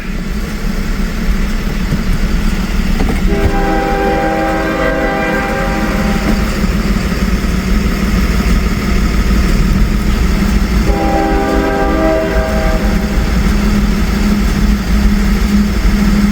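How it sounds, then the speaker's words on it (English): A CSX freight train rumbles steadily throughout, with a loud horn sounding twice, once near the start and again later, over continuous rolling rail noise. "I get to wait for a train"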